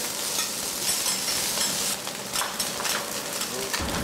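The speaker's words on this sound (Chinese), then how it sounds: "煎的时候刮铲一定要用力，就是贴着那个铁板用力的铲上来" A metal spatula scrapes hard against a hot iron plate while osmanthus mock shark fin, a traditional Teochew dish, stir-fries with a steady sizzle, broken by repeated near, rhythmic scraping strokes.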